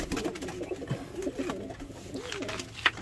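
Lakha pigeons coo softly in low, repeated murmurs at close range, with a brief sharper call near the end and faint background rustle.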